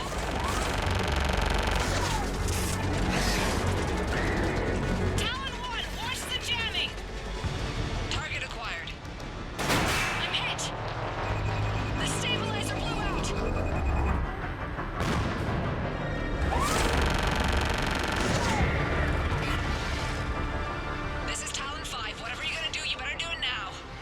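Air strike gunfire rains down on ground targets in the Mass Effect 3 battle on Thessia, with loud repeated booms and bursts of fire over a dense, continuous battle din, while radio voices talk over the barrage.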